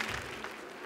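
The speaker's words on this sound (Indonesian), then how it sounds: "tepuk tangan untuk Farisa" An audience claps for Farisa, a young participant on the Indonesian Hafiz Indonesia 2018 Quran memorization show, producing a brief, faint, steady patter of applause.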